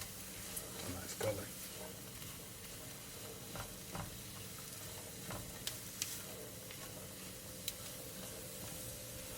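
Green and red bell peppers frying in a pan, giving a soft steady sizzle with scattered light clicks as they are tossed around, quiet and close with no talking.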